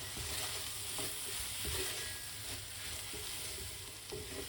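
Lentil couscous stirred in a hot pan, with a steady broadband sizzle of frying throughout and soft scraping stir strokes rising above it now and then, close and fairly loud, no voices.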